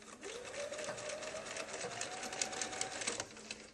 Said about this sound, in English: I am now going to turn my quilt, put it back under the presser foot, and start sewing.